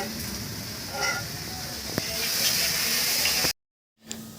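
Meat with onion and ginger frying in a pan, giving a steady close hiss and sizzle with a few small clinks, then a sudden brief silence before the frying resumes.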